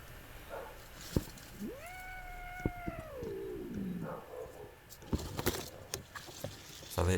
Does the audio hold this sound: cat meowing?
yes